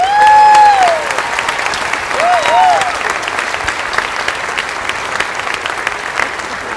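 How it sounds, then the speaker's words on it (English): Sustained applause from a crowd at a school student recognition ceremony in an auditorium, loud and steady throughout, with a few voices calling out over the clapping. "Let's all give them another round of applause."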